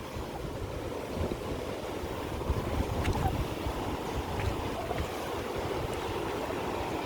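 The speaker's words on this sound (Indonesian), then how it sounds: "debit air masih lumayan kenceng ini" Flash-flood river water rushes past the Gunung Nago bridge in Padang as a continuous dense roar, loud and steady throughout, with some wind buffeting the microphone.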